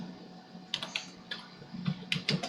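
Fingers type a search term on a computer keyboard, producing quick bursts of light, close key clicks in an uneven rhythm with short pauses between words.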